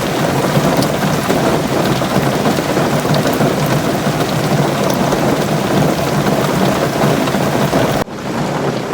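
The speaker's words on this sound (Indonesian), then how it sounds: "hujannya tambah deres ini." Heavy rain pours down in a dense, loud, unbroken hiss with a low rumble beneath, then cuts off abruptly near the end.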